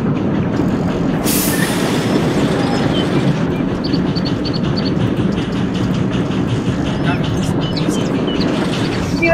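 A video-game train in Sodor Online rumbles steadily along with a continuous low roar, faint wheel squeals and clatter, while voices talk over it.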